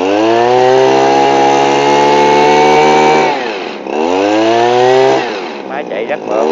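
A Japanese Robin pesticide sprayer engine runs loud and close with a steady high whine, briefly drops in speed, then revs back up before easing off near the end.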